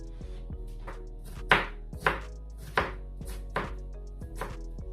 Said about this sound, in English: So I'm going to cut my potato now.